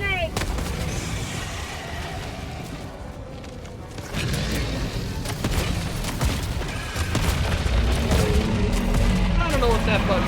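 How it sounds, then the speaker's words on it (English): Gunfire and explosion-like booms from a video game battle in repeated sharp cracks and heavier thuds, building louder toward the end, with talking over them. "Throwing grenade."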